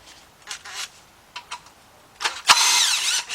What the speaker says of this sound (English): I got me my cordless impact with a 10mm shallow socket.